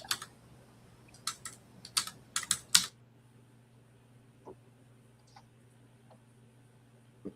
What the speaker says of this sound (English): Your typing's very loud.